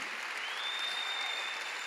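A crowd claps steadily and densely throughout, a continuous wash of applause with no pauses.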